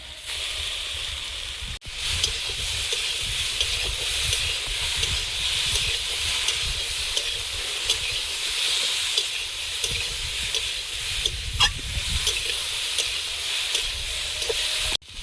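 Prawns coated in salt and turmeric fry in a pan, a continuous close sizzle and hiss broken by the scrape and clatter of stirring, with no talking.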